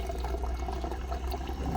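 Water pours steadily from a homemade water cooler in a garage, a continuous close splashing flow with no talk.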